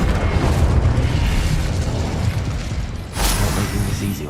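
An Incendio fire spell cast in Hogwarts Legacy, a loud rumbling whoosh and burst of flame with a sharper blast flaring up toward the end.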